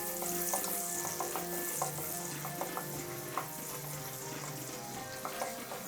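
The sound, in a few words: chopped onions frying in oil in a pan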